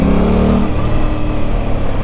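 Aprilia RS 660 sport motorcycle pulling away under throttle, a loud steady engine drone with a slightly jerky throttle response, close and continuous, with no speech.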